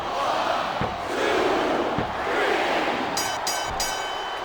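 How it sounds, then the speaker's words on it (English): A video game crowd chants and roars in a WWE SmackDown vs Raw 2007 iron man match between Batista and John Cena. The crowd noise is steady and loud, with a few thuds and a brief high-pitched burst near the end. "Sounds like this crowd's got something on their minds, King"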